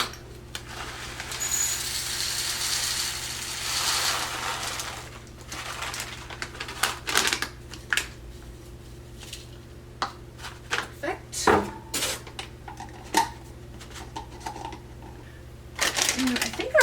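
Sunflower seed kernels poured into a jar during a pantry clean-up, heard as a brief rush of small rattling pieces early on followed by scattered light clicks and taps of the jar and containers, with a steady background hum throughout.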